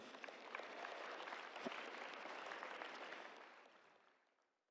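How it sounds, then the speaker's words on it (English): A graduation ceremony audience applauds steadily, a dense wash of clapping that holds loud for several seconds before tapering off toward the end. "so give yourself a round of applause as well"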